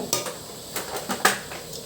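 Apple snails tipped into a pot of fully boiling water: hard shells clink and knock against the metal in a few sharp, scattered taps over a steady low bubbling hiss.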